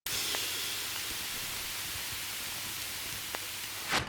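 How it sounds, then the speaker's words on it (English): Steady broadband white-noise wash with faint tonal ambient layers beneath, holding for about four seconds before a short bright noise burst at the end, used as a transient in a Cyberpunk 2077 style electronic music drop. "Add a white noise transient to make more energy in the drop"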